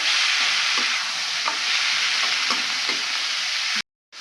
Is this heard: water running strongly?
no